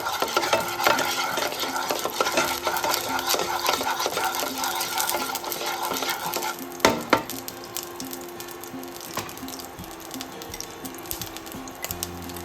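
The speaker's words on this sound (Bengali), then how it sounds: "এবার এগুলোকে একটু ফ্রাই করে নিচ্ছি" Duck eggs fry in hot oil in a pan with a steady crackling sizzle. Scattered pops and a couple of sharper knocks rise near the middle of the stretch before it settles into a quieter hiss.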